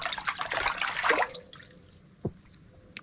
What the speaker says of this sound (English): I'll wash this out real good in fish water